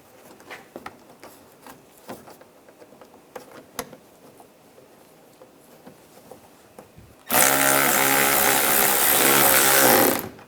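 A power tool runs in one loud, continuous burst for about three seconds while tightening front bumper cover bolts on a 2013-2016 Dodge Dart, after a stretch of quiet scattered clicks and handling noises.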